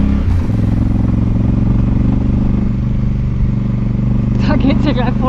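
Motorcycle pushed to full throttle on a rough off-road track outside Sucre, Bolivia, a loud steady engine roar with rattling clatter that holds constant, rising slightly at the end.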